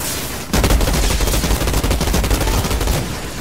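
Sustained, rapid gunfire from guns in the shooter game Outriders erupts after a brief pause and hammers on loudly and close with no talking.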